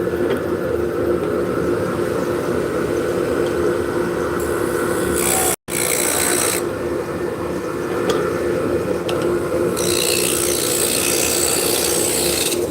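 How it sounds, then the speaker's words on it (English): A skew chisel is pressed against spinning wood on a lathe, producing a loud, continuous rasping hum with a scraping edge that rises and falls as the tool cuts in, with no talk. "So I'm going to mark where the bottom is with my skew."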